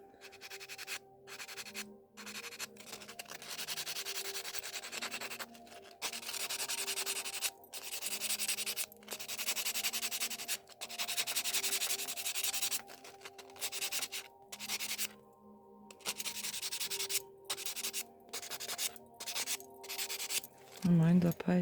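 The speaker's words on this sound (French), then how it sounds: "Pas trop poncer pour pas non plus affiner trop le gel." Gel nail polish is buffed with a nail file in repeated short, rasping strokes, close and fairly quiet, broken by brief pauses, with a soft voice at moments.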